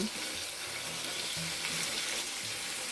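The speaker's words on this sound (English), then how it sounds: "So now I'm going to start browning my chuck roast." A two-pound chuck roast browning in hot oil over medium-high gas heat gives a constant, fairly quiet sizzle with faint crackle throughout.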